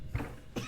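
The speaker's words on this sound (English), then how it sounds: "Sorry guys for my coughing." A short, quiet double cough from a man, two close bursts within under a second.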